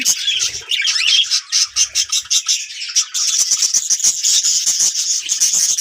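A dense, close chorus of budgerigars, many small birds chirping, squawking and chattering at once in a busy, continuous stream.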